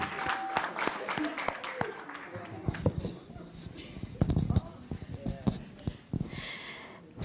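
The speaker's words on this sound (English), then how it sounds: "Let's applaud her." Scattered, uneven clapping from a women's leadership gathering audience, sparse and fairly faint with some rustling and breathing noises in between.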